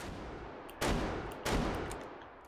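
Mauser rifle fire in the VR shooter game Hot Dogs, Horseshoes & Hand Grenades, two sharp, loud single shots a little over half a second apart, each trailing off in a short echoing decay.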